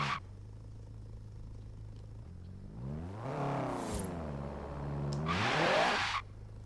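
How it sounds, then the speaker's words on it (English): Front-wheel-drive Honda Civic in Forza Horizon 3 trying a launch in first gear: a steady idle hum climbs into a rising, falling rev, ending with a loud hissing rush before settling back to idle. "Let's see if the car will launch"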